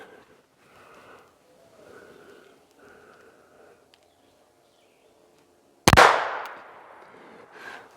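.25 caliber pistol fired through a chronograph, heard as a single sharp, loud report near the end, following a stretch of quiet faint background sounds.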